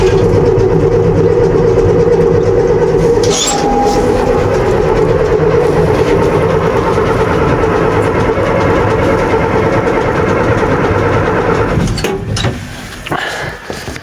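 A Bizon combine harvester engine cranks in frost on a cold start, a loud, steady, heavy mechanical churning and drone that runs continuously, then falters and breaks up with clunks near the end.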